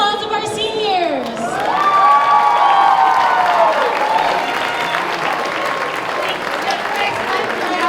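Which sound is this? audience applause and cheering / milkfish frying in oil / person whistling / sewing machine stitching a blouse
audience applause and cheering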